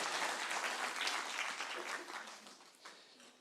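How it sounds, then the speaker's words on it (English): Audience applause after a lecture on chemistry, a dense wash of many hands clapping that holds steady and then slowly thins and fades toward the end, heard alone without talk. "Can we give a round of applause?"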